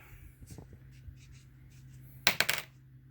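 Dice clatter onto a tabletop during a war board game, a short burst of rattling hits after a quiet stretch with small handling noises.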